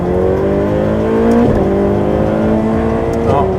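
A car with its engine warning light on idles and pulls away, a steady engine hum with a rising and shifting pitch close by, with muffled talk underneath.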